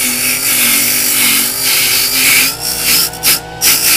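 A JoolTool rotary sander whines loudly and steadily while working polymer clay, its pitch dipping and surging as the disc is pressed against the workpiece, ending in brief stutters.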